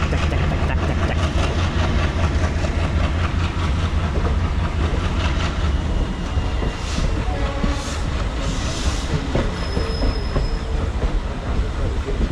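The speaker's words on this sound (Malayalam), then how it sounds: "WDG അത് ശരിക്കും പറയാം ഗുഡ്സ് വലിക്കണ ലോക്കമാണ് കേട്ടോ" Indian Railways WDG diesel goods locomotive shunting rakes, a loud, dense rumble of engine and rolling wagons with rhythmic wheel clatter and occasional faint squeals, steady throughout.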